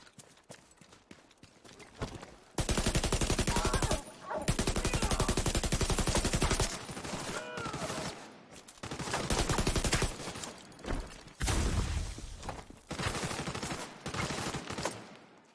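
Bursts of rapid video game weapon fire in a boss fight, loud automatic volleys in several separate strings with short gaps between, crisp and close, with no talk over them.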